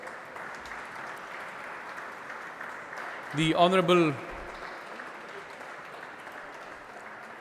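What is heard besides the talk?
applause welcoming dignitaries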